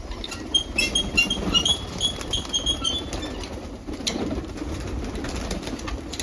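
Several pigeons coo in low, throaty murmurs while wings flap and rustle nearby, a busy, continuous flock sound without speech.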